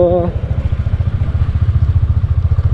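A motorcycle rides an off-road mountain track on a steep descent, its engine thumping in a steady, close, rapid pulse. A brief voice is heard at the very start.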